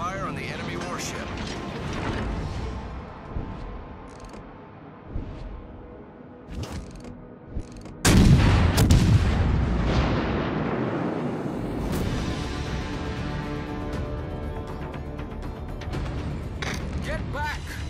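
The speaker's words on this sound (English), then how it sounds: "Concentrate fire on the enemy warship." Warship guns firing in the naval battle game World of Warships: Legends, heavy booming blasts with a big loud salvo midway, followed by rumbling ongoing battle noise, with voices speaking over parts of it.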